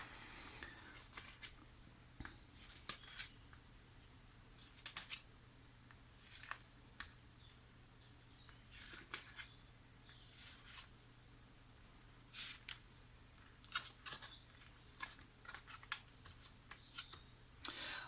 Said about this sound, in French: Alors je vais retourner toutes les cartes.